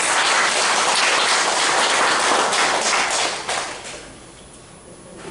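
Church congregation applauding a choir's hymn, dense clapping filling the room for about three seconds, then thinning and fading into scattered claps and quiet.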